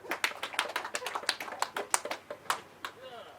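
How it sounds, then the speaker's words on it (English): A small seminar audience claps briefly for a volunteer, a quick patter of individual claps at moderate distance, soft and uneven, with some voices mixed in. "We've got a clap for her."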